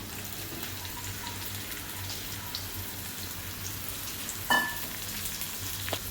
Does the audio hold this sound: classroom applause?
no